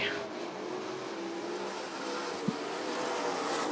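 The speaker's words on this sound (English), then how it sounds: "And Dale Nottestad, the 51 car off the pace, goes to the inside." Big 8 Series race cars at Rockford Speedway roaring around the track, a continuous loud engine drone with a brief sharp knock partway through, no speech.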